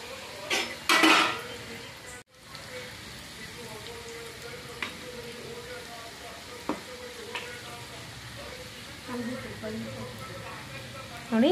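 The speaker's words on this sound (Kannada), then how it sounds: "ಇದನ್ನು ಒಂದೊಂದಾಗಿ ಆಯಿಲಲ್ಲಿ ಬಿಟ್ಟು ಡೀಪ್ ಫ್ರೈ ಮಾಡ್ಕೋಬೇಕು" Kajjikayi, sweet stuffed pastries, deep-frying one by one in hot oil, a steady soft sizzle with occasional clinks and stirring scrapes from a utensil, with a louder clatter near the start and end.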